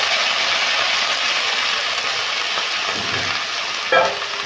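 Vegetables for pumpkin sambar (yellow pumpkin, drumstick, raw mango, broad beans, curry leaves) sautéing in a pan, a steady close sizzle with a brief stirring scrape near the end.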